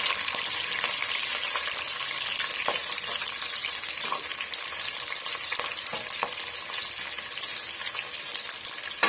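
Chopped onions and whole green chillies fry in oil in a pan, a dense continuous sizzle with occasional soft clicks of a stirring spoon, close and unbroken.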